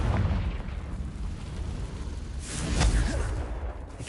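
A Confringo explosion spell in Hogwarts Legacy bursts with a deep rumbling boom that swells mid-clip over low game ambience, with no voice.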